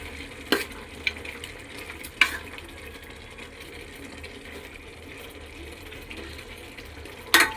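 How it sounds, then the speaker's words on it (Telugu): Chicken curry with ginger-garlic paste being stirred in a pan: a steady low sizzle with a few sharp scrapes of the spoon against the pan, close and alone, no talking. "ఒకసారి కలుపుకుందాం."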